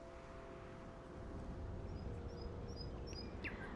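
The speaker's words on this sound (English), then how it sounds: "we've put in some wind, birds and chimes" Faint outdoor ambience with a soft, constant wind-like hiss and a few high, thin bird chirps scattered toward the end.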